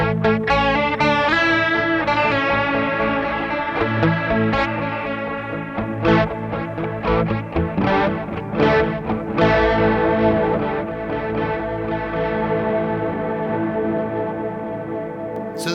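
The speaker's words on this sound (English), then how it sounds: "So I've got a nice panning sort of delay going in here at the moment." A guitar played through a Microcosm pedal with a stereo panning delay, on a pedalboard built from leftover pedals: sustained, layered chords with repeating echoes and a slightly distorted, chorus-like shimmer that rings steadily throughout.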